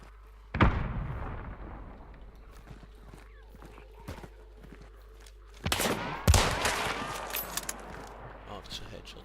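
Two sharp, loud gunshot bursts ring out several seconds apart in the game Hunt: Showdown, each followed by a fading echo, with scattered quieter game effects in between.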